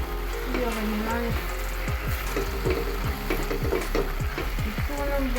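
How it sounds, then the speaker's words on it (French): An onion mixture for a quick spaghetti-and-egg dish is stirred in a hot pan, giving a steady close sizzle with repeated scraping strokes of the utensil throughout. "Puis je remélange."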